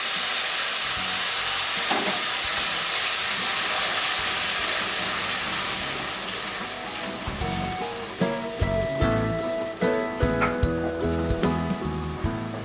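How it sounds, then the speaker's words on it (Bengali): Onion, ginger and garlic paste hitting hot ghee for a raw banana curry: a loud, broad hiss of sizzling that gradually settles, followed by softer spluttering and clinks of stirring toward the end. "ঘিটা দিয়ে এই ফোড়নটা দিয়ে দিচ্ছি এবার পেঁয়াজ আদা রসুনের পেস্টটা দিয়ে দিলাম"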